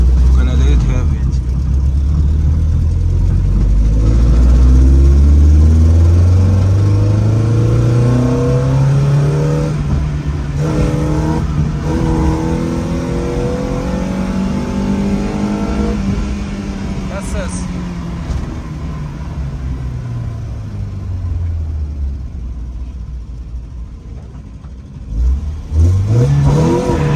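A Golf project car pulls hard on the road, its engine revving in one long sweeping climb through the gear and easing off, loud and close from inside the cabin, with a person talking over it.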